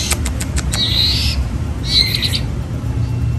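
White-rumped shama chick chirping while being hand-fed, two bursts of high, urgent begging chirps preceded by a few quick ticks, close over a low background hum.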